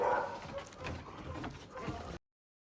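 Puppies whimper and yap in Yakutsk in a continuous, close-up chorus of high, thin cries for about two seconds, then cut off abruptly.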